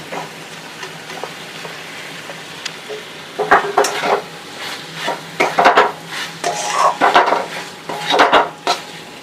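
Mushrooms with turmeric being stirred in a hot pan: a faint sizzle at first, then loud clustered scraping and clattering of a spoon against the pan, close and continuous, no speech.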